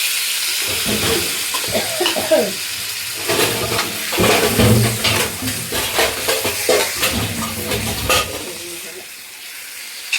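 Chicken pieces stirred into sizzling fried masala in a pan for a chicken gravy, giving repeated scraping stirs over a steady frying hiss, with occasional quiet talk in the background.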